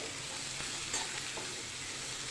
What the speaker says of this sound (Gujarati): કોબીને બરાબર મિક્સ કરી લઈશું આવી રીતે હલાવી લેવાનું છે